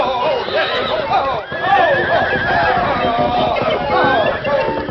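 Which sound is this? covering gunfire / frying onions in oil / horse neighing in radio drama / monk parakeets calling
horse neighing in radio drama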